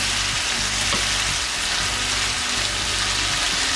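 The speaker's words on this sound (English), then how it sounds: "You want to mix this well and fry your potatoes for a couple more minutes" Canned potatoes and green beans fry in a hot skillet with a steady, close hiss of sizzling oil that stays even throughout, with no voices.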